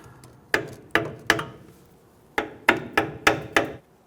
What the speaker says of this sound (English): Now I'm going to use my hammer and just kind of break this free.